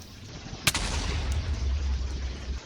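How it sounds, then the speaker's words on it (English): A gigantic explosion in Minecraft: one sharp, loud blast with a brief crack, followed by a low rumbling tail that lingers for about two seconds, heard alone. "And it makes a gigantic explosion."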